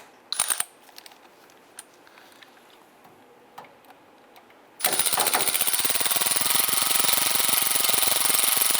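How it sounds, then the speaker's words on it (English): Stud and nut being tightened on a 1995-2001 Ford Explorer during speedometer drive gear replacement: a few light ticks and clicks, then a loud, steady rapid rattling of a power tool running continuously in the second half. "tightening that stud and nut"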